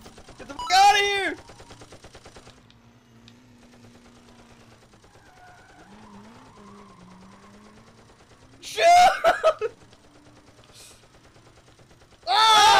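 Gunshots in the video game Pummel Party, a few sharp bursts at the start, near the nine-second mark and at the very end, with quieter game noise in between.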